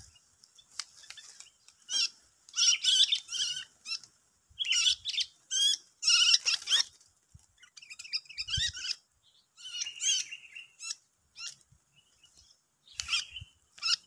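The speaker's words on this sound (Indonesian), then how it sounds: "Kita dapat burung muda lagi." A young wild bird caught in a bird trap chirps and squawks in repeated high, sharp bursts with short pauses between them, close and clear over a quiet background.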